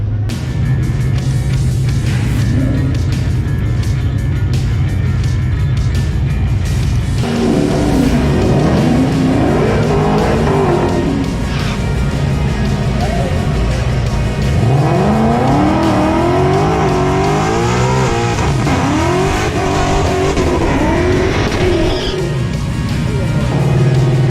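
A turbocharged 6.0L LS-swapped Nissan 240sx with a 4L80e transmission idles loudly and rumbles, then revs hard through rising gear sweeps in two strong bursts at a drag strip, with voices faintly mixed in.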